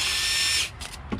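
A power tool spins bolts off a car's transmission pan in a short, loud whir that cuts off after about half a second, followed by faint handling noise.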